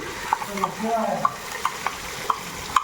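Ground garlic, ginger and green chili paste fries in a pan of coconut oil and fenugreek, sizzling steadily under a series of sharp, rhythmic scrapes and taps from a stirring spoon.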